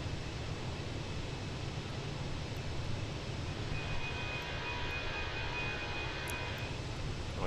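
Airbus A320 engines in a Fenix A320 flight simulator give a steady, broadband grinding roar with a faint high tone, held constant for the whole stretch and heard alone without talk.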